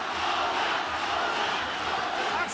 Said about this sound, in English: And the crowd get into it again.